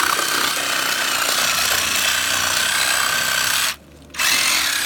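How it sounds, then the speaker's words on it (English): A Sawzall reciprocating saw cuts through deer ribs during butchering, a loud continuous buzzing rasp that briefly drops out near the end before resuming. "I can take my handy dandy Sawzall"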